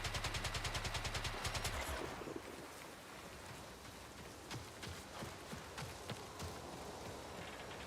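Rapid automatic turret fire in the video game Marathon, a loud burst of evenly spaced shots for about two seconds, then scattered fainter impacts and distant pops over a rumbling background.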